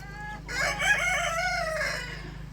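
Bantam roosters crow in thin, high-pitched calls that overlap, with soft clucking beneath, close by and fairly loud.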